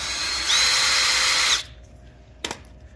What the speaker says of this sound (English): I just drill that out